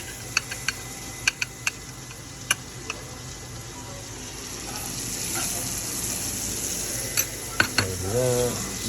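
Sourdough discard buttermilk pancake batter being mixed near a pan with bacon grease: a steady low hiss with scattered light taps and clinks, ending in a brief voice.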